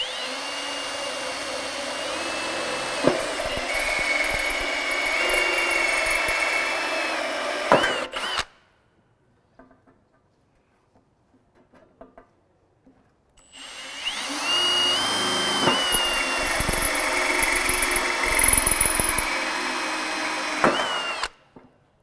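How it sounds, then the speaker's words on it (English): A power drill with a pilot bit boring holes in an inverter's metal enclosure, two loud sustained whirring bursts separated by a few seconds of near silence with faint handling clicks, close up and without speech. "So now we're going to punch our holes using our knockout set. First, we're going to use a pilot bit."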